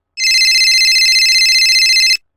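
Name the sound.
cell phone ringing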